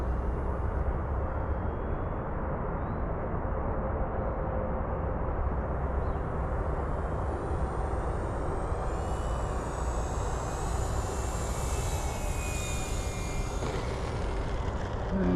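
A CNHL Super Tucano 1600mm RC plane comes in to land with gear and flaps down, its electric motor making a steady, loud drone with a whining tone that rises and falls near the end.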